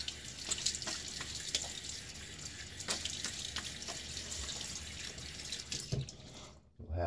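Water runs steadily from a bathroom tap for a rinse after a wet shave, a continuous hiss with small splashes that cuts off near the end.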